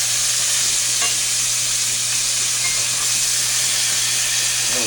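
Trout sizzling in a Lodge 12-inch cast iron fry pan, a steady loud hiss of frying with faint stirring clicks throughout and no talk.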